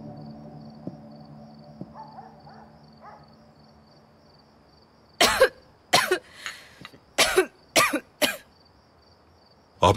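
A woman in a historical drama series coughs several times in a row after a lingering injury, sharp harsh bursts close by following a quiet stretch with faint background sounds.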